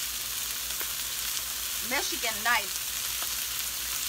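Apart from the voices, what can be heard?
chicken wings searing in a pan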